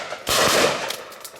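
A single loud shotgun blast at a simulated game day clay shoot, with a sharp onset and a long decaying echo across open ground, heard alone.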